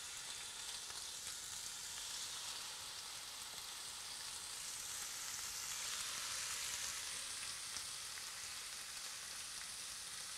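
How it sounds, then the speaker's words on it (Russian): Steady, dense sizzling of white fish fillet frying in a hot pan, continuous and even throughout with no voices. "В разогретую сковороду перекладываем рыбу."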